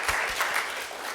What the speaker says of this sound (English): Let's give a nice round of applause to our wonderful music team of Laura, Betsy Joe, Peter,